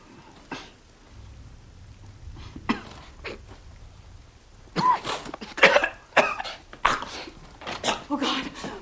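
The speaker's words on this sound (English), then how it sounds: "He's coughing up blood." A man coughs in harsh, irregular bursts, faint at first and then louder and more clustered, with low rain-like background noise and some speech mixed in.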